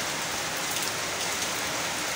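Rain falls steadily in a cool spell after a hot night, making a dense, even hiss of drops on surfaces, continuous and close, with no talking.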